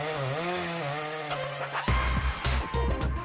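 A chainsaw in a TV commercial revs up abruptly partway through, giving loud, rough bursts of engine noise after a musical opening.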